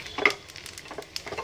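Grated coconut roasting in a pan for a payasam, with soft intermittent scraping and stirring clicks and a faint sizzle, fairly quiet and close.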